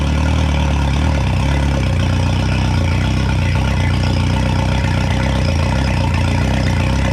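An outboard boat motor idles steadily and loudly with a continuous low rumble and even throb, with no voices over it.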